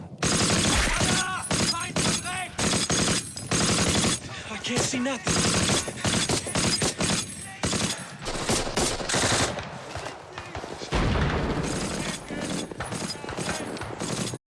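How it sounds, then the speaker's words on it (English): Big artillery guns pound a beach in a WWII battle scene from Band of Brothers, with a dense, continuous barrage of loud blasts and gunfire as someone shouts briefly. "No, those are the big guns firing onto the beach, the big artillery."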